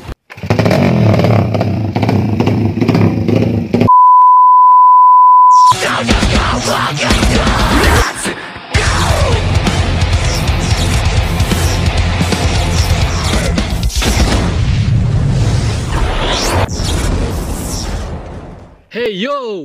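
A Yamaha Jupiter Z 200cc motorcycle engine revs loudly in bursts, with popping and roaring over a long stretch, mixed with speech and a brief steady beep tone.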